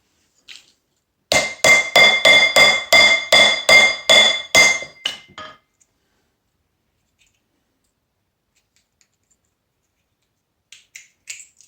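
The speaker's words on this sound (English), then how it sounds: "With a hammer, I think, by the look of that." Hammer strikes on copper and brass scrap, about a dozen sharp, ringing metallic blows in a quick steady rhythm, close and loud, then quiet with a few faint taps near the end.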